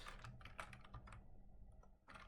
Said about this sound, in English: Now I'm going to type